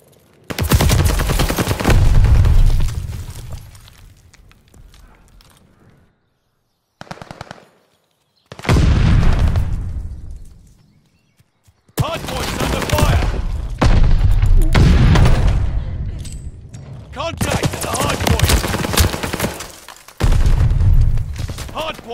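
Heavy automatic gunfire at a hardpoint in a shooter video game, loud bursts of rapid shots broken by brief pauses and a few booming thuds.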